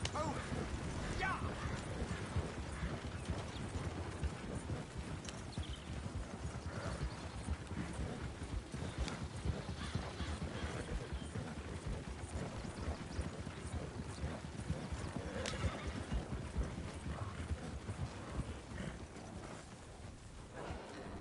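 A horse gallops across open ground in Red Dead Redemption 2, its hoofbeats a fairly quiet, continuous patter over a dense ambient wash, with a faint neigh.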